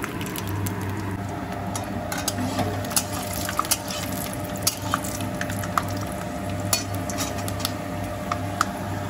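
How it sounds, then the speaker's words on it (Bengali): Peanuts fry in hot oil in a pan for a vegetable chop recipe, with a steady sizzle broken by repeated metallic clinks of a utensil against the pan, close and without talk. "বাদামগুলো ভেজে নিচ্ছি আমরা এবার।"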